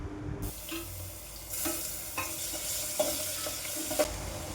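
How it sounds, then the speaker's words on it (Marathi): Grated ginger and garlic frying with golden onions in a hot pan, a steady close sizzle with occasional stirring scrapes and clinks of a spoon. "आता यामध्ये आपण किसून घेतलेलं आलं आणि लसूण टाकून घेऊ"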